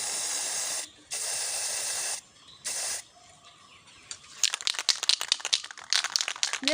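Aerosol spray paint can hissing onto a bicycle rim in bursts of about a second, with short pauses between, followed by rapid crackly rattling and clicking as the wheel turns.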